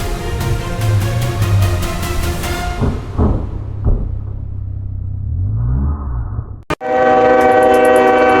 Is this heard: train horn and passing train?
yes